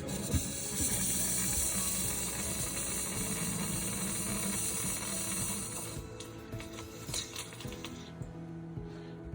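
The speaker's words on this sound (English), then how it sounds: "As you can hear, there's air still coming out of the faucet." Air and water sputter and gurgle from an RV faucet in a Winnebago Minnie Winnie 22M during a winterizing line purge, a busy rattling hiss that thins out after several seconds into sporadic spits and clicks.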